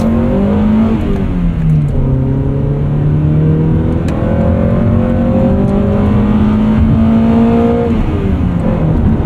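A 1999 Honda Prelude Type SH with 5-speed manual accelerates uphill through the VTEC changeover, the engine note climbing steadily in pitch into a harder, rising wail, loud and close from inside the car.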